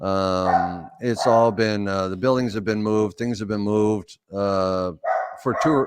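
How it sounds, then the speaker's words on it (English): Household dogs bark and yip in the room while a person keeps talking, the barking mixed in and partly buried under the voice. "Sorry about my dogs."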